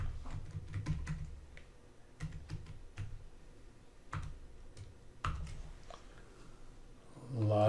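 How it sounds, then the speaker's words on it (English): Someone typing a password on a computer keyboard, with clusters of quiet, close key clicks separated by short pauses and a brief rustle at the end. "I should not talk while typing."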